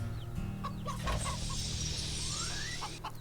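Chickens on a farm in the video game Wytchwood give soft, short clucks over a looping game music bed, fairly quiet and close.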